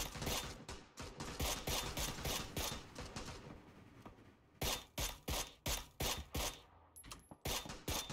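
Loud bursts of automatic gunfire in PUBG, sharp rattling volleys with short gaps between them, close and dominant throughout.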